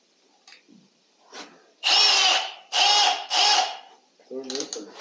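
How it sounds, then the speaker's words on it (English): A power drill bores into concrete in three loud, close whirring bursts with short pauses between them, after softer tentative starts and followed by lighter mechanical clicks. "That's how you drill the concrete."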